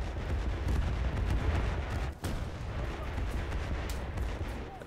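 In the War Thunder naval game, a STAAG anti-aircraft gun aboard HMS Leopard fires continuously, making a dense, rumbling barrage of rapid shots mixed with heavy explosions, steady throughout with no talk.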